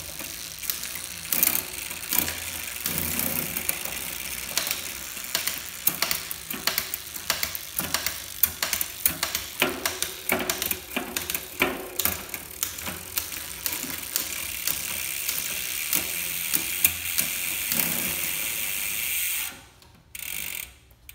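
S-Ride 12-speed 1x12 mountain bike drivetrain with an 11-52t cassette, its derailleur shifting through the gears as the cranks spin, giving a steady rapid clicking and ratcheting that runs for about twenty seconds and then stops abruptly.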